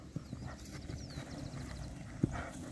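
A gateado-coat horse trots in tight circles, its hooves clip-clopping in a quick, uneven rhythm at moderate distance, with one sharper, louder strike near the end and faint bird chirps in the background.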